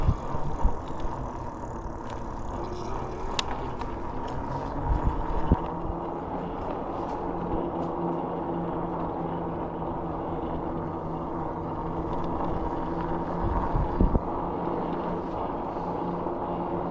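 A Rad Rover electric bike runs under light throttle, its steady motor whine and road hum holding continuously throughout with a few faint bumps and rattles.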